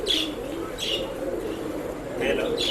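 Pigeons for sale in a Bangalore pet shop coo in low, repeated bursts, with higher chirps breaking in now and then over steady room noise.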